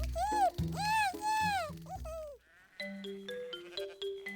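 Several high, wavering bleats close by, followed by a run of stepped, musical tones, like a playful sheep bleating set against cartoonish notes.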